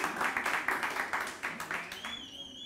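An audience applauds and cheers in a lecture hall, a dense patter of clapping sustained across the clip and tapering slightly, with a high whistle-like tone near the end.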